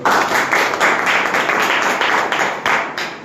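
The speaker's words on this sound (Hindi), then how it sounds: "एक बार जोरदार तालियां" Loud audience applause at a wellness company seminar closing in an office hall, a dense, steady burst of many hands clapping for about three seconds with no voices over it.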